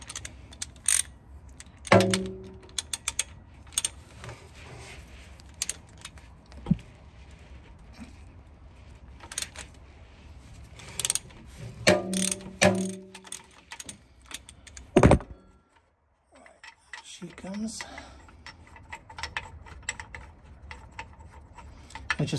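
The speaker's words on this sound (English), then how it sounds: "what we're going to do is undo the 13mm bolt, which is going to be this one here." Ratchet undoing a 13mm bolt on a BMW i3 motor mount, with close clicking bursts and metallic clunks of tool on bolt, scattered with pauses and quieter ticking between.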